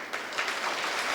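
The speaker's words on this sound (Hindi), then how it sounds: "आज ताली बजाइए" Audience applause honouring the children at a Jain religious ceremony with a monk, a steady wash of clapping from many hands lasting about a second, with no voices over it.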